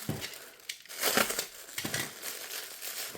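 Plastic packaging around a purchased set of chalk paints crinkles and crumples close to the microphone in uneven bursts as it is unwrapped, with brief quieter pauses and no talk.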